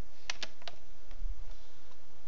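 Quick taps on calculator keys while numbers are entered, a few close, light clicks in a short burst followed by quieter faint taps.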